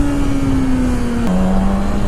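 Loud, steady motorcycle engine drone held at high revs, with the pitch sagging slightly then dropping a step midway, as the rider pulls wheelies on the road.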